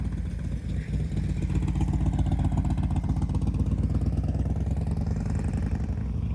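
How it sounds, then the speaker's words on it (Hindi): Motorcycle engine idling and gently revving on the Blue Ridge Parkway, a rough, pulsing rumble heard up close and steady throughout, without speech. "अच्छी मोटरसाइकिल है भाई।"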